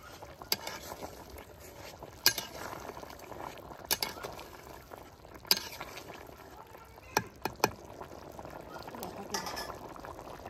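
Potato and egg curry broth bubbling at a boil in a cooking pot, a low steady simmer broken by scattered sharp pops and clinks, close and fairly quiet, with some background voices.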